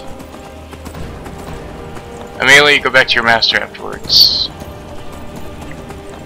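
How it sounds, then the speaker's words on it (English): Hooves of a horse in Skyrim clop in a quick galloping rhythm, fairly close, with a short whinny-like cry near the end and a character's voice speaking over the run. "Run, horse!"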